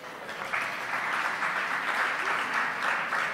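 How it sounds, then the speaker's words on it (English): Audience applause at a live piano performance event, steady, dense clapping from a crowd sustained throughout at even loudness, with no voices over it. "I think Roja deserves applause by itself."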